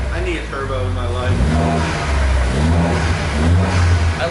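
A Ford Fiesta ST fitted with a Whoosh Motorsports short ram intake revs up and down in repeated loud, close blips, with a person talking over the engine.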